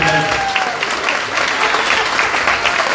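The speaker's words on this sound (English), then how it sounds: "Give a big round of applause." Sustained clapping from a large audience at an arts festival launch, loud and steady throughout with no pauses.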